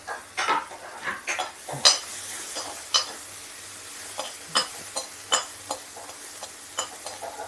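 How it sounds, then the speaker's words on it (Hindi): Onions frying in a pan for taro kofta, stirred with a metal spoon that gives sharp, irregular clinks and scrapes against the pan over a light sizzle, close and clear, with no talking. "प्याज भी भून लेते हैं।"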